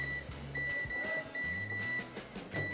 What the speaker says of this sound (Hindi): इसके लिए जो चॉकलेट इस्तेमाल कर रहे हैं ये हम रख देते हैं माइक्रोवेव में, इसको मेल्ट होने।